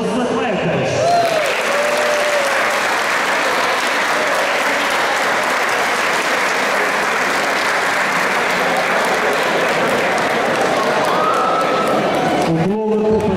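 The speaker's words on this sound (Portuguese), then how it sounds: "queria pedir-vos a todos uma enorme, enorme salva de palmas para todos os dirigentes e para todos os atletas" A large audience at a sports club's 50th anniversary awards ceremony gives a long, sustained round of applause, loud and continuous, with a brief voice heard near the start and again near the end.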